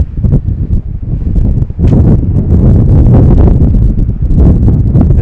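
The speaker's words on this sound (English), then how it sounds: "Heavy wind gusts continue." Heavy wind gusts at an outdoor high school baseball game, loud low rumbling buffets hitting the microphone in uneven bursts, with a brief lull before the roaring gusts return.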